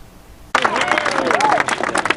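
Cheers and applause erupt suddenly in the US House chamber, a dense burst of clapping from many lawmakers, with voices shouting over it.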